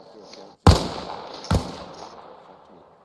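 Two rifle shots ring out at a firing range in the video game ARMA Reforger. The sharp cracks come close together and are followed by a short decaying echo, with no talk.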